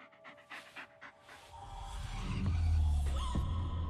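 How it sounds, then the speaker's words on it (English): A dog pants close by in the Blair Witch video game, quick rhythmic breaths that grow louder and more insistent over a swelling low rumble, with no talking. "Just take the damn dog"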